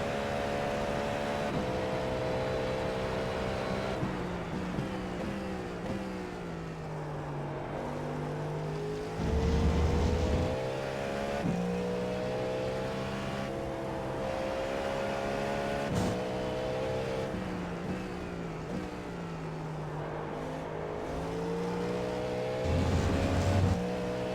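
Cadillac V-Series.R race car engine at Road America in iRacing, a loud continuous prototype engine note rising and falling through gear shifts and corners, with brief low thumps on downshifts and no talking.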